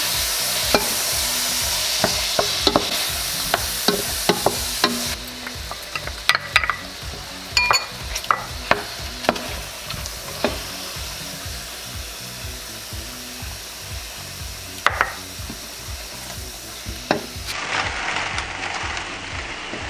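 Mushrooms and spinach sautéing in a hot pan, with a steady sizzle at first and then scattered stirring scrapes and clatters over a quieter fry.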